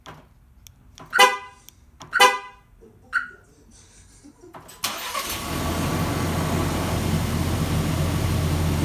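A 2021 Ford Ranger's horn gives three short, loud chirps about a second apart as the lock button is pressed on the factory remote, then the engine cranks, starts and settles into a steady idle.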